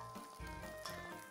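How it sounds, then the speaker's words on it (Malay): Hot oil poured straight into a wok while making black pepper chicken, a brief crackling sizzle running under a steady low background hum, fairly faint. "Ambil minyak panas ni, masuk terus dalam kuali"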